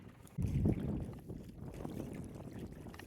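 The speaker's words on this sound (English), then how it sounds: "Steve is rowing us ashore." A rowboat being rowed ashore, with a soft splash and stroke of oars near the start, then gentle continuous water and wind noise, fairly faint and without voices.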